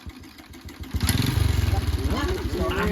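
A 2020 motorcycle engine catches after kick-starting and settles into a close, loud, pulsing idle, with people talking over it.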